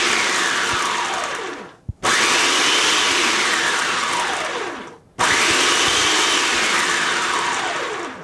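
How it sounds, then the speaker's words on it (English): Almonds pulsed in a blender into almond flour, three loud whirring bursts of about two seconds each, separated by brief pauses, the motor pitch sweeping as the nuts break down. "Now I'm just going to put that in there and pulse."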